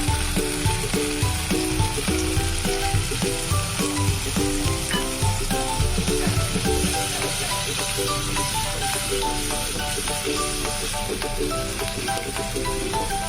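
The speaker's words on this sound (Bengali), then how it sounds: "যার জন্য আমি এখানে জলটা মিলিয়ে দিলাম, দিয়ে এটাকে আরও 2 মিনিট মতো নাড়িয়ে নেব" Pabda fish curry with cashew paste sizzling loudly and steadily in a pan, with scraping stirring strokes and faint background music running under the frying.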